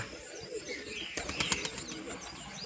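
Wet pigeons just out of their bath coo softly, with a short burst of wing flapping in the middle before the cooing settles again.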